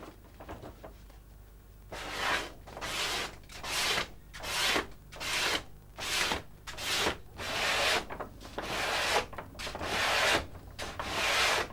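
A Lambeg drum skin being scraped by hand, ten or so long rasping strokes in a steady rhythm, close and fairly loud over a faint low hum, with no talking.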